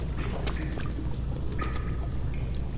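Sewer water pours steadily in Amnesia: The Dark Descent, a continuous rushing splash with faint trickling and dripping detail on top, constant and fairly close throughout, with no voices.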